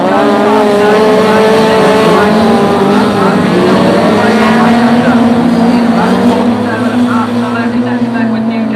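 Racing cars roaring around the track at the Scunthorpe BAS finals, several loud engines droning and shifting pitch as they run side by side, a continuous close, heavy motor sound throughout.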